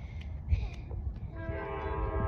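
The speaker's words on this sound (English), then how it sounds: "Do you hear the choo-choo train?" A train passing near Stone Mountain sounds its horn, a sustained multi-tone blast rising over rumbling rail noise at moderate distance, starting after a few faint earlier toots.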